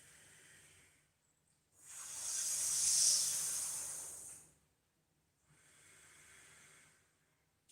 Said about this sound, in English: roll your tongue together and inhale through your mouth, exhale through the nostrils